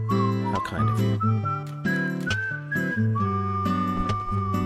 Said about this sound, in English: Who do you think whistled for "Life Is Beautiful"?